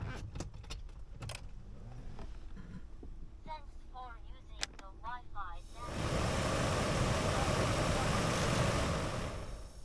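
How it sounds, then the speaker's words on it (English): A Vauxhall Crossland X is switched on, with a few clicks and beeps giving way to a loud, steady blower rush that fills the last four seconds; quiet handling noises come before it. "turn the car on."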